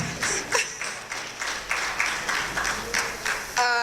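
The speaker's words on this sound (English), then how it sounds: "Let's clap, guys." An audience at a Rotaract club event in Kampala claps steadily and fairly loudly throughout, with the clapping pulsing in a loose, rhythmic pattern.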